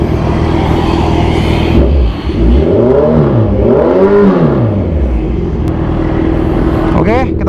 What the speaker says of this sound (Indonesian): kita mau nyoba launch control. Launch control di RPM 5000 ya.